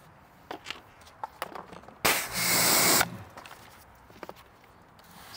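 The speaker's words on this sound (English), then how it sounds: "Spray on the brush." A single spray of tire gel dressing from a bottle onto a brush, one loud hiss lasting about a second, set between quiet handling taps and clicks, no talk.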